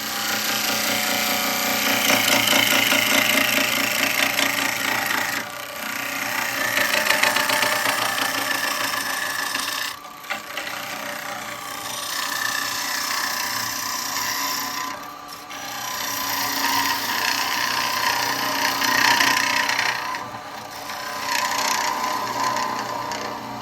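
Wood spins on a lathe while a bevel-rubbing chisel cuts into it, a sustained scraping, rasping hiss with a motor hum beneath, broken by brief pauses around five, ten and fifteen seconds, no speech.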